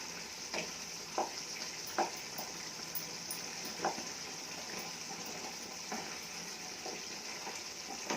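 Ridge gourd curry being stirred in a pan with pepper powder and crushed garlic, soft sizzling under a steady hiss, punctuated by irregular light clicks of a spoon against the pan.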